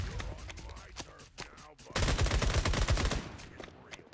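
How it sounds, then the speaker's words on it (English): Rapid video game gunfire crackles in dense bursts, a choppier stretch giving way to a louder, sustained volley of shots in the second half. "What are you shooting at?"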